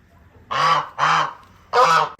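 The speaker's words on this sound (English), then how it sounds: "Goose, I wouldn't be complaining too loud." Three geese give loud, close honks, each one a separate brassy call about half a second long with short gaps between them, against a quiet outdoor background.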